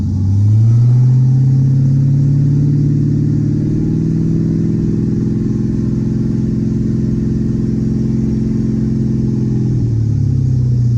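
A Ford Thunderbird engine with a recent misfire revs up and holds a steady raised idle around 2,500 RPM, a loud, close, rumbling drone that eases back slightly near the end.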